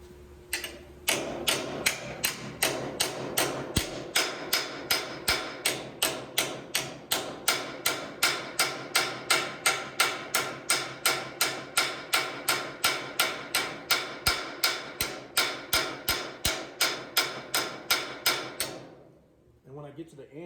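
A smooth, flat-faced hammer shapes a metal car panel over a dolly, striking in a fast, steady rhythm of close, loud metallic blows that run for nearly twenty seconds before stopping abruptly.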